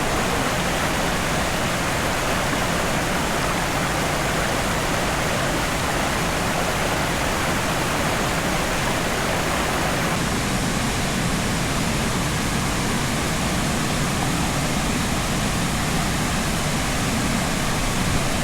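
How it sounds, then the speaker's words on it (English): The upper falls at Great Gully pour in a steady, dense roar that fills the whole stretch without a break, loud and close, with no voices. "we're coming up on the upper falls at Great Gully, looking awesome"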